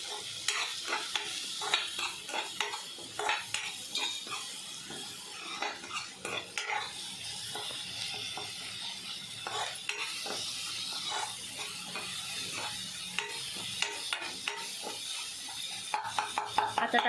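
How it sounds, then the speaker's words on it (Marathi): Ginger, garlic and chilli paste stir-fried in a pan for pav bhaji: a continuous close sizzle broken by frequent scraping and clinking of a spoon against the pan, with no talking. "आता अद्रक लसूण मिरचीची पेस्ट चांगली मिक्स करून घेऊ।"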